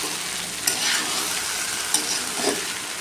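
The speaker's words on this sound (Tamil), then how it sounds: "இப்போ நல்லா கிளறி விட்டுட்டோம்னா எல்லா வெண்டைக்காய் கூடயும் கலந்துரும்" Okra and eggs being stirred and fried together in a pan, a steady dense sizzle with a few sharper scraping stirs, close and continuous with no talk.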